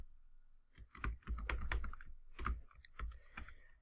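Quick clusters of keystrokes on a computer keyboard, irregular taps and clicks close to the microphone in a quiet room, with a few short pauses between bursts of typing.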